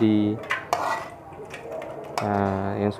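Pots and cutlery clatter in a home kitchen while Indonesian geseng aseman is cooked: a few sharp metallic knocks and scrapes, close and fairly loud, with a brief voice at the start and end.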